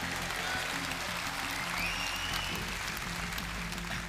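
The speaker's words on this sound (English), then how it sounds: "you can clap for that as well" A political rally crowd applauds a Reform UK MP, sustained clapping heard from a distance over a low steady hum, with some cheering in the room.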